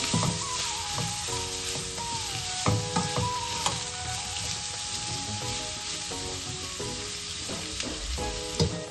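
A curry leaves rice bath mixture fries in a pan with a constant bright sizzle, while a spoon clinks and scrapes at intervals and a few high tonal squeaks drift through, close and steady, no voices.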